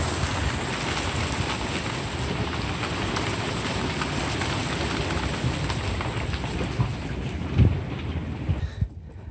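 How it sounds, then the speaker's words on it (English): Heavy tropical storm rain pours steadily in the Exumas, Bahamas, a dense, loud, continuous hiss with faint gusts and a brief low thump near the end before it drops away. "And here comes the rain."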